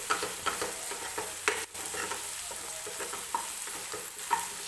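Spices sautéed in a hot pan for dal tadka, a soft steady sizzle broken by repeated scraping strokes of a spoon stirring, close and unaccompanied.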